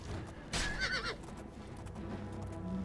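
A loud horse whinny in The Elder Scrolls IV: Oblivion rises and falls over a murky background rumble, followed by low ambient noise.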